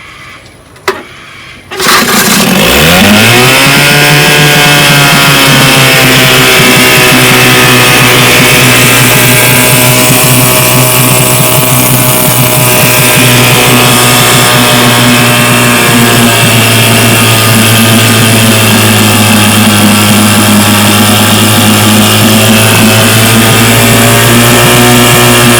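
A 1958 Johnson JW-14 3 HP outboard motor catches after a short pull and then runs loud and steady, its buzzing drone holding an even pitch for a long stretch.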